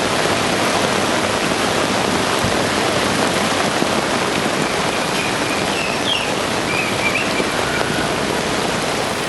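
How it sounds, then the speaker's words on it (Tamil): Heavy rain pours down in Coonoor for over an hour, a loud, unbroken wash of hissing water with no letup and no voices. "குன்னூரில் 1 மணி நேரத்திற்கு மேலாக கொட்டி தீர்த்த மழையால் இயல்பு வாழ்க்கை முடங்கியது"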